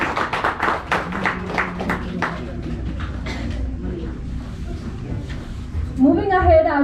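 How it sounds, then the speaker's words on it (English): Audience applause at an international biotechnology conference in Nepal, a dense burst of claps in the opening seconds that thins into scattered clapping and room murmur, with a brief tonal sound near the end. "let's welcome him with a big round of applause"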